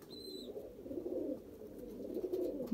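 Kasuri pigeons with pink eyes coo softly and steadily in a low, murmuring hum, a continuous pigeon-loft backdrop with no talk.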